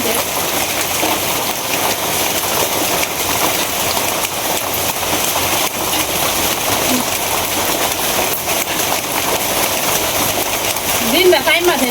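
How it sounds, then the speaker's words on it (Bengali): Steady rain falls on a surface during a wet rice-harvest day in rural Bangladesh, a dense continuous patter lasting throughout, close and fairly loud, with a faint sound rising near the end. "এই বৃষ্টি থামে আবার বৃষ্টি কমে"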